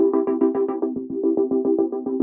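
A gated synth pad pulses in a fast, even rhythm, each chord chopped into short repeated throbs, clean and alone.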